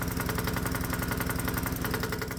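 A hot bulb semi-diesel lawnmower engine running on pure diesel fuel chugs steadily, its deep, even firing beat close and loud throughout, with no voices.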